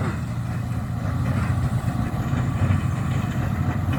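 A tractor pulls a Krone Big Pack 1290 baler through an alfalfa hay field, giving a loud, steady mechanical drone with a constant low rumble and no breaks.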